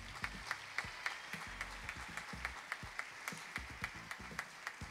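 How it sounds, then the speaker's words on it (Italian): Audience applause for a youth choir and its conductor at an anniversary concert, steady crowd clapping with sharp individual claps standing out, sustained and fairly distant throughout. "è diretta dalla professoressa Lucia Fulador, per la quale chiedo un ulteriore applauso."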